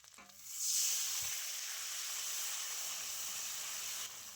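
Ginger paste frying in mustard oil bursts into a loud, steady sizzle as water is added, a bright hissing spray of steam that holds strong for several seconds with no talk over it.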